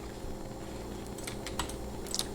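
Typing on a computer keyboard produces a handful of soft, quick key clicks at an uneven pace, faint and close, against a quiet room hum.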